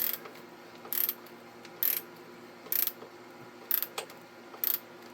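A ratchet running a bolt into the intake of a 2002 Toyota Tundra 3.4 L engine, six evenly spaced bursts of clicking over a quiet background, close by.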